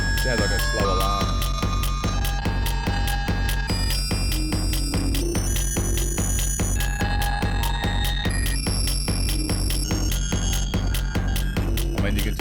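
Ableton's Corpus resonator with its tubular pan effect rings out in slow, repeating metallic tones over a pulsing low beat, like a sluggish alarm, loud and steady throughout.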